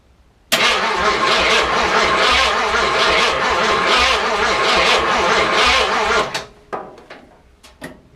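A car's engine cranks over steadily on its starter for about six seconds, a continuous loud churning that never catches, then cuts off into a few scattered clicks and knocks.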